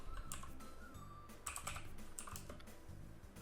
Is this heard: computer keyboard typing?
yes